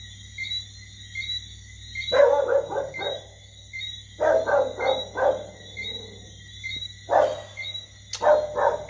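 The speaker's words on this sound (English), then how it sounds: "Pardon the dog outside." A dog outside barks in repeated bursts of three or four sharp barks with pauses between, moderately distant over steady insect or frog chirping at night.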